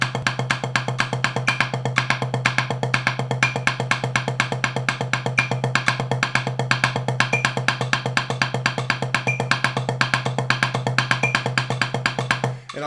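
Drumsticks play a fast, even sticking pattern, with the right hand striking up in the dark matter oval of the drum. The close, steady stream of strokes runs unbroken and evenly accented for the whole stretch, with no voices.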